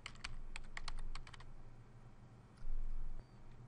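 A quick run of crisp keystrokes typed on a computer keyboard, close and clear in the first second and a half, followed by quiet room tone with a faint low thump.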